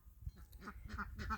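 An injured goose at a backyard pond gives a few soft, nasal honks in short bursts, fairly close but quiet.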